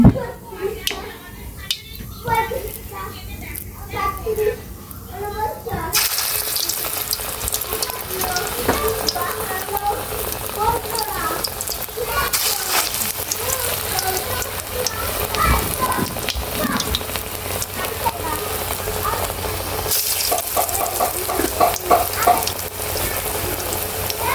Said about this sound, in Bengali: এখন হচ্ছে বড়া ভাজবো তেল গরম হয়ে গেছে